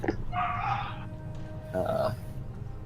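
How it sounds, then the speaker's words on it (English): A dog barks in the background of a home during an online tabletop role-playing session, with two short bursts of barking under steady room noise. "Pardon if you hear my dog barking in the background."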